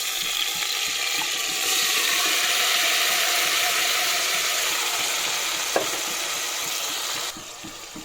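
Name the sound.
chicken frying and stirred with onions in a pan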